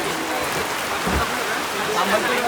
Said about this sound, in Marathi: पाऊस आला रात्रीच्या वाजत अडीच आणि पावसाने थैमान घातला